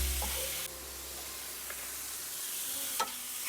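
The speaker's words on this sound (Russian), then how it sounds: "Я все обжариваю на большом огне при постоянном помешивании." Soft sizzling of mushrooms frying in a pan over high heat, with a few scraping stirs of a utensil, close and quiet, no talking.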